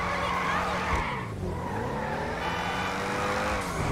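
A car drifting in GTA 5, engine roaring steadily with rising and falling pitch while tires squeal across the turn, loud and continuous throughout.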